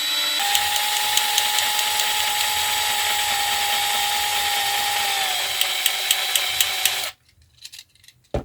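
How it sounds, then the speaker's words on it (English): A power drill whines steadily at close range for several seconds, drilling into a 1:64 diecast Camaro ZL1 model car, with rapid clicking near the end before it cuts off into near silence. "just going to go ahead and start drilling and find out"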